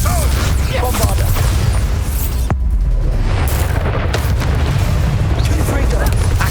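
The Bombarda blasting spell in Hogwarts Legacy goes off as a loud, close boom amid ongoing battle noise, with a brief sharp crack midway and a voice speaking over the din.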